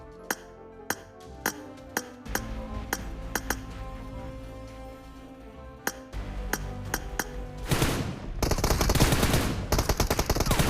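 Video game M4 rifle fire: single sharp shots crack at a steady pace, then give way to a loud, rapid burst of automatic fire.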